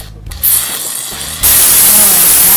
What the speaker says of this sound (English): We're just going to be spraying it onto the slide.